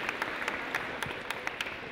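An audience applauding guests at an award ceremony promoting women in aeronautics careers, steady sustained clapping with scattered louder claps, heard at moderate distance and fairly quiet.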